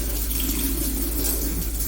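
A kitchen faucet runs steadily and close by while leeks are rinsed under the stream, a constant unbroken rush of water with no talking.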